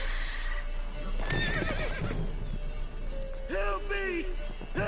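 Roach, the horse in The Witcher 3, whinnies loudly twice, each a rising then falling neigh, over steady hoof clip-clop and game ambience, with a voice briefly talking underneath.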